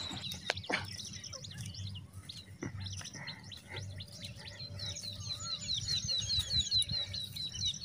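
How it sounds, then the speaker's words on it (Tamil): Asian koel calls ring out repeatedly in a forest over a steady low outdoor hum, with a busier burst of rising calls toward the end. "ஸோ அந்த குயில் சத்தம் அப்படியே கேளுங்க"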